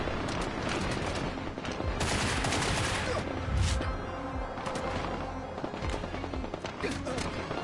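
Heavy gunfire in the Get Even video game: repeated bursts of shots and volleys crackle almost continuously, loud and close, with a sharper blast near the middle, while a voice talks over the shooting.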